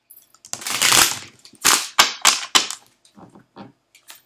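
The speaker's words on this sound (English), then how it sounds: "I'm going to shuffle." Cards being shuffled nearby, a series of quick riffling bursts followed by softer taps, with no talking.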